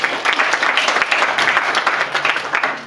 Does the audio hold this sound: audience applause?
yes